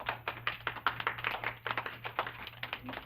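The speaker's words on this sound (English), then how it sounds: "Give her a clap." Audience clapping in a steady burst of hand claps, fairly close, continuing for a few seconds with no talking over it.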